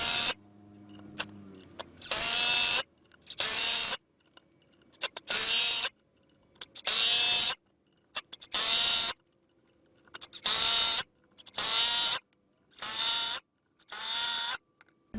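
A Skil 12V cordless drill drives screws in a rapid series of loud, whining bursts of about a second each, separated by short pauses, close and without speech.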